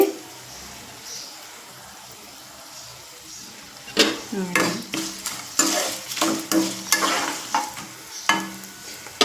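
Sesame seeds, dried red chillies and garlic fry in a pan for a cucumber chutney, a steady sizzle broken by a burst of sharp crackles and pops that starts partway through and keeps going.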